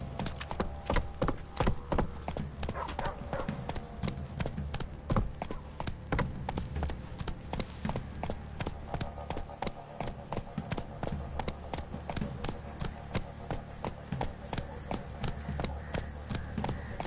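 Roach, a horse in The Witcher 3, gallops in a steady fast clip-clop of hooves that runs unbroken from start to finish, close and loud over a low rumbling game backdrop.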